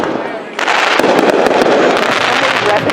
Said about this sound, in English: No, that's the fireworks.